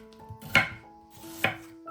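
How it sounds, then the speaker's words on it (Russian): Two sharp knife strokes chop an onion on a cutting board, cutting it into half rings, spaced about a second apart, close and clear with no talk. "разрезаем пополам и нарезаем полукольцами"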